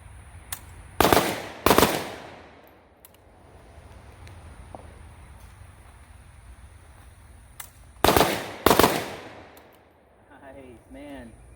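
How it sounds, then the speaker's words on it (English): An AK rifle fitted with a red dot sight fires in two quick bursts of a few loud, close shots each, separated by a quiet stretch, with a voice speaking near the end. "I'm just gonna have fun and keep shooting now."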